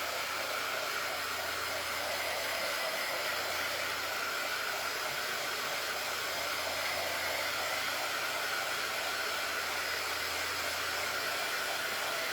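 Hair dryer blowing steadily on a freshly made craft project, a flower truck design, a loud continuous whooshing hiss that holds unbroken throughout.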